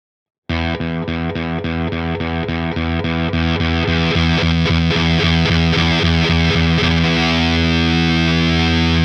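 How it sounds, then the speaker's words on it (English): Electric guitar through a fuzz pedal with the fuzz control at the 2 o'clock position, starting with rapid palm-muted chugging that gives way to a thick, sustained fuzzy chord, loud and close, with no talking. "Here my preferred fuzz sound is set to the 2 o'clock position."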